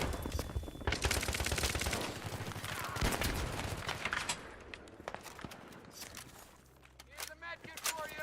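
Rapid bursts of SG553 assault rifle fire in Battlefield 3 on PS3, dense volleys of overlapping shots with footsteps and other battlefield noise, quieter scattered shots toward the end.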